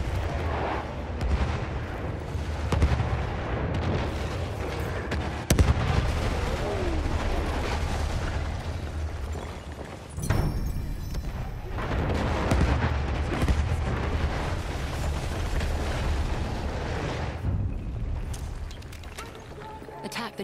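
Heavy artillery barrage in the Battlefield 1 game, Rush mode: continuous deep rumbling booms and blasts roll on without pause, with scattered sharper impacts and distant battlefield noise layered underneath.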